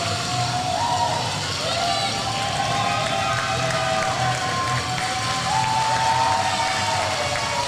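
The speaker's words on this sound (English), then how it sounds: "this crowd is still just going absolutely nuts over the absolute classic we just witnessed" Large wrestling-event crowd cheering and roaring after a match victory, a dense sustained wash of noise with whistles and shouts rising above it, with commentary partly audible underneath.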